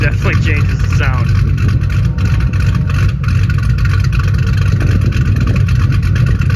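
The V8 engine of a 2007 Mustang GT fitted with Howards Rattler cams rumbles steadily and loudly, idling with a choppy, uneven lope.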